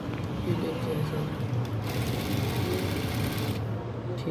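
A sewing machine runs steadily while stitching a sleeve cuff, giving a continuous close mechanical whir with a fast rhythmic needle chatter and no talk.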